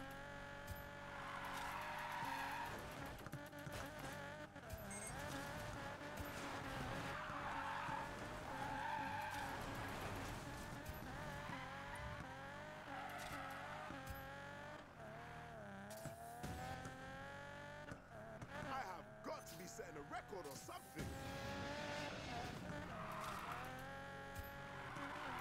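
A car drifts in Need for Speed Payback, its engine revving and rising and falling while tires squeal and skid loudly and almost continuously, with no talk over it.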